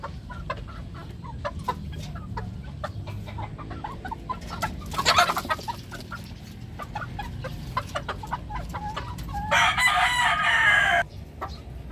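Bulik gamefowl stags and pullets crowing repeatedly, with a louder, longer crow near the end and scattered clucking in between, from a small outdoor flock at close to mid distance.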